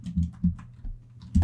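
A computer keyboard clicks with a few quick, soft keystrokes in an irregular rhythm, heard up close in a quiet room.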